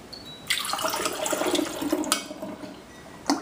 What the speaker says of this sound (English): you'll just stir it up some and fill up your bottle